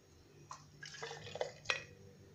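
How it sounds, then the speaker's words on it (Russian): Orchid seed nutrient medium is ladled into a small sterilized glass jar, giving a few soft liquid pours and faint glassy clinks, quiet and close. "И так наливаю в каждую баночку по 2 сантиметра"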